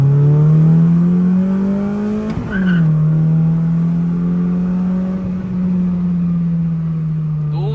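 Tuned hatchback cars, a K24-engined EF hatch among them, accelerating hard from second gear in a street challenge. A loud, steady engine drone climbs in pitch, with a brief gear-shift dip partway through, close and continuous.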